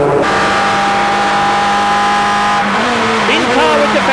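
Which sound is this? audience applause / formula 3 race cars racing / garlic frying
formula 3 race cars racing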